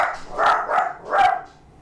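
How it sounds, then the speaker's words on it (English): Dogs bark close by, three loud woofs spread over two seconds, with no talking. "the dogs barked right when I said it"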